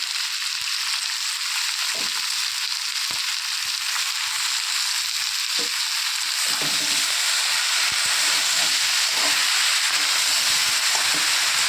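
Spinach sizzles and hisses steadily in a hot pan with panch phoron and green chilli, a continuous bright frying sound with occasional soft stirring clicks.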